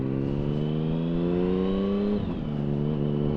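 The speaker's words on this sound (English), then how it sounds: "Oh my god, she's holding idle." A motorcycle engine, previously faulty with loose hoses and a burnt-out regulator rectifier, holding a steady idle, an even sustained drone close by with a small pitch dip partway through.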